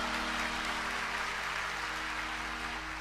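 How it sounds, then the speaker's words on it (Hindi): Dense, continuous applause from a crowd at a Ramayana satsang gathering, an even wash of clapping that holds steady throughout, with a low electrical hum beneath it and no speech. "बजाइए ताली।"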